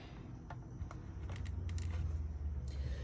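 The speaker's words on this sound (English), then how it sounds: "Let me grab my Stampin' Cut and Emboss machine here." A Stampin' Cut and Emboss machine is picked up and set down on a crafting table, making scattered clicks, creaks and knocks over a low rumble.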